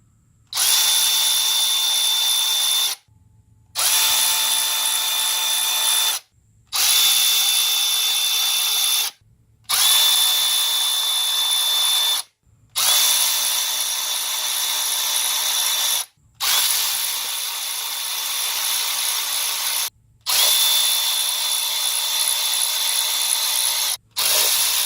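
A power tool, likely an impact gun, runs out the valve cover bolts on an engine during a valve and timing belt check, in about eight loud, steady bursts separated by short pauses.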